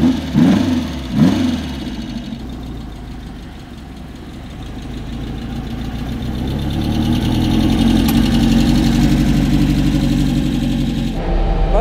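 A 1958 Porsche 356 A with a 135 PS engine runs close by, a couple of quick blips at the start giving way to a steady, full-bodied rumble that swells toward the end, with no talk.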